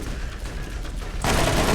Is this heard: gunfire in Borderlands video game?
yes